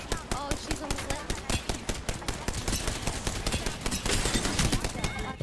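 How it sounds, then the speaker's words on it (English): Rapid gunfire in a first-person shooter squad fight, dense bursts of automatic shots and sharp single cracks, loud and close throughout, with faint voices beneath. "There's another squad attack."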